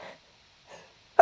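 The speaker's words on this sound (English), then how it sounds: "I have a sneeze coming up" A single sharp sneeze bursts out at the very end, loud and close, after a couple of soft breathy sounds and quiet pauses.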